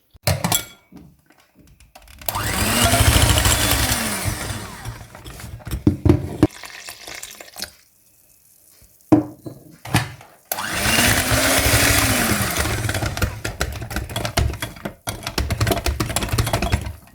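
Sugar, flour and milk being mixed into egg for kaiserschmarrn batter, two bursts of loud whirring beating separated by a quiet pause, with knocks and taps of the bowl around them.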